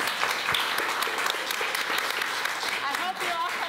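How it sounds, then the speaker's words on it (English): An audience at an evening conversation salon applauds the respondents, a dense, sustained burst of clapping from many hands that continues steadily with a few voices mixed in. "a round of applause for our respondents tonight"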